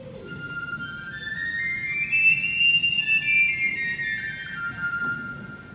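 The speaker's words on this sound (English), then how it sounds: "this is called a Piccolo. It's basically a higher version of a flute, so you can play really high notes on it" Piccolo played in a school instrument demonstration, a thin high sustained melody sliding up and down over a few seconds, fairly faint above a low murmur of room noise.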